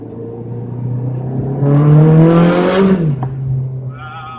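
A Ferrari 360 Challenge Stradale engine revs up close and loud, its pitch rising steadily over about a second before dropping back to a steady idle.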